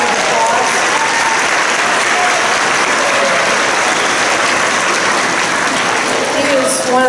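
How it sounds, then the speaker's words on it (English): Audience applause for a middle school principal at a Christmas event, loud dense clapping from a large crowd sustained for about seven seconds at a steady level, with faint voices mixed in. "please give Mr. Brummett a big round of applause"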